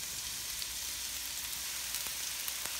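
Tomatoes fry in a pan with bitter gourd and corned beef, giving a steady, fairly quiet hiss and sizzle with occasional faint pops throughout, with no talk.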